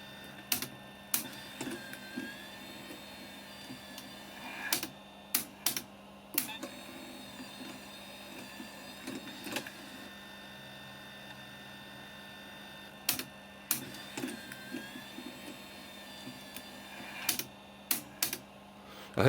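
A Telefunken 900M / JVC HR-C3 VHS-C VCR mechanism runs on a workbench under repair, giving a steady whirring motor tone with a low hum, broken by repeated sharp mechanical clicks and clunks, close and moderately quiet.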